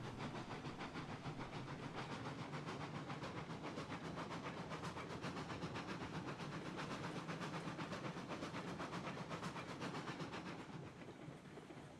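A Cooke 2-8-0 steam locomotive in Railroads Online pushes iron ore cars, giving a steady, rapid chuffing exhaust over a continuous hiss and rolling rumble that stays even throughout before easing slightly at the end.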